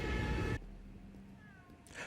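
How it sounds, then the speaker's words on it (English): A cat meows in a Doctor Who episode, a faint, drawn-out cry in a quiet scene, following a brief louder burst of other sound at the start. "Oh, cat."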